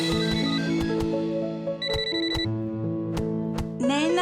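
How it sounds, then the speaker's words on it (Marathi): A mobile phone ringtone rings steadily and loudly over several seconds, a tonal chiming melody with repeated sharp percussive beats, heard alone with no talking. "केव्हापासून फोन वाजतोय तुझा?"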